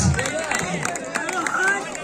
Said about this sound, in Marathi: या मामासाठी एकदा टाळ्या होऊ द्या.